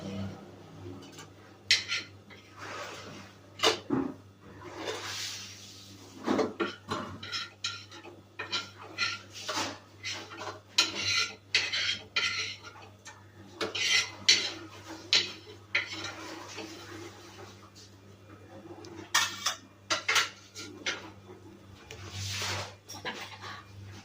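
Plates and steel utensils clatter and clink in a home kitchen as fried potato and raw banana are served onto a plate, with irregular close scrapes and knocks while a person speaks intermittently.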